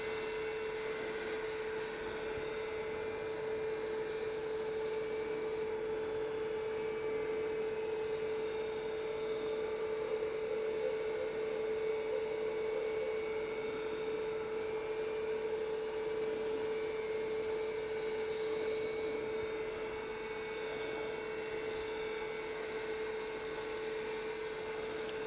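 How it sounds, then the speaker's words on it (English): Fine 220-grit sandpaper rubs against a wooden honey dipper spinning on a wood lathe, a steady soft hiss over the lathe's constant motor hum, running unbroken. "we're going to do a real quick sanding job"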